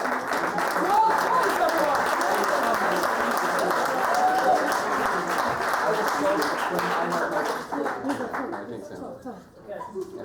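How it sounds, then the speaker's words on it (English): A crowd applauds steadily for several seconds, dense clapping with a few cheers and chuckles mixed in, tapering off near the end. "Big round of applause, everyone."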